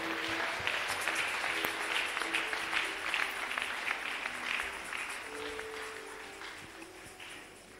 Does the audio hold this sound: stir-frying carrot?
no